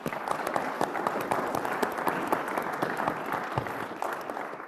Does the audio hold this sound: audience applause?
yes